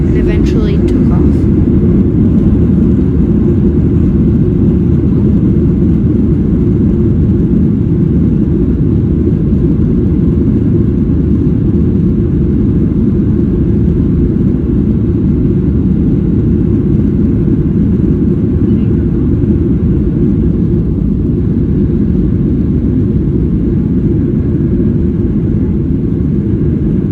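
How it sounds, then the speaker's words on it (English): A Boeing 737-800 jet speeds down the runway and lifts off, heard from inside the cabin as a loud, steady low engine roar that holds without a break throughout. "We made it onto the runway and started speeding up and eventually took off."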